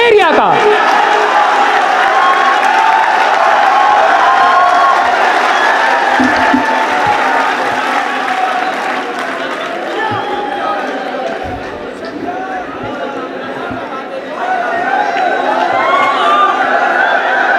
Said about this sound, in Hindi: ज़ोरदार तालियों से स्वागत करें कुशल दोनेरिया का।